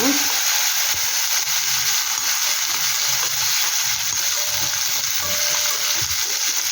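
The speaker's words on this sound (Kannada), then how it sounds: "ದ್ರಾಕ್ಷಿ ಹಾಕ್ತಾಯಿದ್ದೆ ನೋಡಿ ಸ್ವಲ್ಪ ಫ್ರೈ ಮಾಡ್ಕೊಳ್ಳಿ" Raisins sizzle in hot oil in a pan while prawn biryani is being prepared, a steady close crackling hiss with faint stirring scrapes underneath, with no talk.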